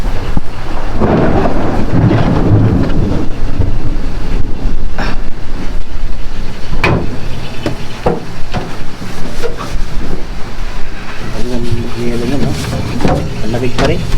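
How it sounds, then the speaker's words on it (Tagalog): Heavy rainstorm with loud, booming thunder rumbling through a steady wash of rain, near and sustained, with sharper cracks later on; a person talks over it. "kaya pala ang lalakas ng kulog kanina"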